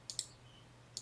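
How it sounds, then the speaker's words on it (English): Mouse clicks used to open a web button in a new browser tab: two quick double-click pairs, crisp and close, separated by a short quiet gap, with no talking. "I'm going to right-click on this Deploy to Azure button and open that in a new tab"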